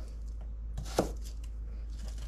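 A knife cuts through onion pieces on a board, with one crisp, close chop standing out amid a few softer cuts in an otherwise quiet kitchen.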